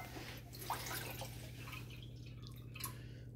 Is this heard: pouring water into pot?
yes